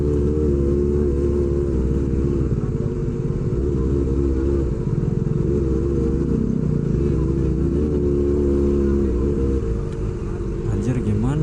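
Kawasaki Ninja ZX-25R motorcycle fitted with an SC Project H2 exhaust, idling and revving in a crowded, jammed market street on the eve of Eid, a continuous loud engine rumble with rising revs, nearby voices underneath.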